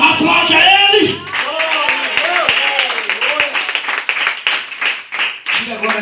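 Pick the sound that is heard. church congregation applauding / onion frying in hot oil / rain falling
church congregation applauding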